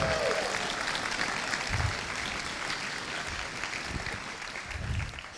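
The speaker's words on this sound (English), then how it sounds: "So please give them a round of applause." An audience at a Dota 2 exhibition show match gives a round of applause, loud, dense clapping from a large crowd sustained throughout with scattered cheers.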